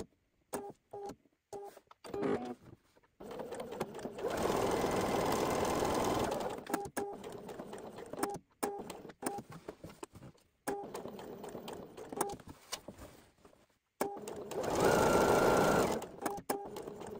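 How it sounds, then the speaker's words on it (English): A home sewing machine stitches a box around a welt pocket on a garment, running in several bursts of steady mechanical whirring with short pauses and two longer, louder continuous runs. "I like to go ahead and sew a box around this welt area"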